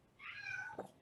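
A house cat lets out a single drawn-out meow, faint and somewhat distant, ending in a brief soft chirp, with no talking over it.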